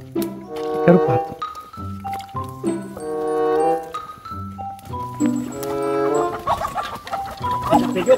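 A chicken clucks loudly and repeatedly up close, in agitated bursts with rising squawks, while voices talk over it during a chase in the Amazon jungle.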